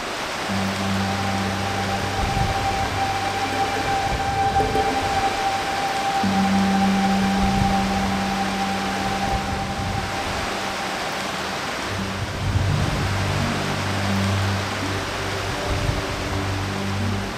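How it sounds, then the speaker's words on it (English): Running water from melting snow rushes down a valley near Strines, England, in a steady, even hiss, continuous and unbroken, with a faint low hum underneath. "The peaceful sound of running water."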